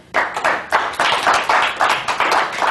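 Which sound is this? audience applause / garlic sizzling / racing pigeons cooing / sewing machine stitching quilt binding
audience applause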